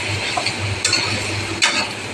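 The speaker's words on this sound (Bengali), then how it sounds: "তো এখানে আমি জলটা দিয়ে দিচ্ছি।" Water goes into a pan of fried spice paste for a water lily stem dish: a close, steady sizzle with two sharp bursts of hissing and scraping as the pan is stirred, and no talking.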